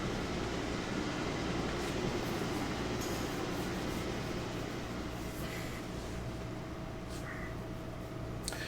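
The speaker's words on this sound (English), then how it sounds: "So we now have a big passenger train with a Bryson house car on the front." A big passenger train with a house car on the front rolls along in the Railroader video game, giving a steady, dense rumble with faint clicking throughout and no talk.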